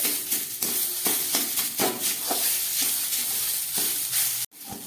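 Grated coconut frying in a pan while being stirred, with a steady sizzle broken by repeated scraping strokes of a spatula at a brisk, uneven rhythm, close by, ending in a sudden knock and a brief pause.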